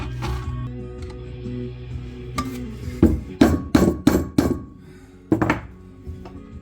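Rear wheel bearings on a Golf or Polo are driven out with a screwdriver, producing a run of sharp metallic knocks, some in quick clusters, over a low background hum, with a last blow after a pause.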